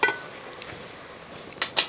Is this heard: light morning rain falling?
no